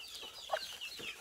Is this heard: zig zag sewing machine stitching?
no